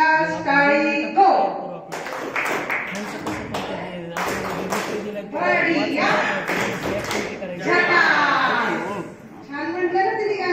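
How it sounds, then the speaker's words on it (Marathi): A group claps together in a rhythmic 'zakas' clap, a quick run of sharp hand claps mixed with children's and adults' voices singing and talking throughout. "चला एक साथ झकास टाळी गो."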